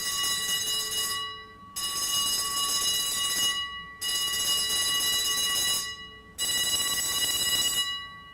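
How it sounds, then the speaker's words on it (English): Fire bell ringing in loud, continuous metallic bursts, three long rings separated by short pauses. "Show the fire bell."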